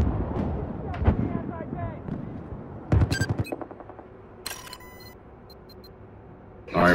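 Distant mortar rounds boom in a Battlefield 4 close-quarters match on Operation Locker, a sharp burst of blasts landing mid-clip over scattered gunfire, with players chatting on voice comms through much of it.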